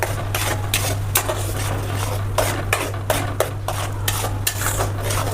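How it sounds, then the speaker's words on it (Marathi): Tomato-onion paste being stirred and sautéed in a pan for creamy pav bhaji: repeated scraping and clinking of a spoon against the pan over a steady low hum, loud and close, with no talking. "वाटण टाकून झालं की हे असं छान परतवून घ्यायचं आहे."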